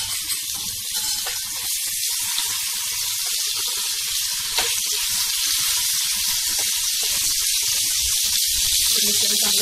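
Ginger, garlic and coriander paste with coconut and cumin sizzles steadily in a pan for lemon pickle, a constant close hiss of frying with no talk.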